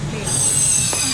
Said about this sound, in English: That is the sound of an angle grinder.